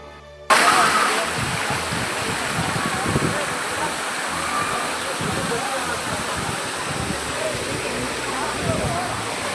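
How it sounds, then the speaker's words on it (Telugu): A waterfall near Araku roars loud and close, a broad, unbroken rush of falling water that bursts in suddenly and holds steady throughout. "దగ్గర నుండి ఈ వాటర్ ఫాల్ విజువల్స్ ఎలా ఉన్నాయో ఒక్కసారి చూడండి."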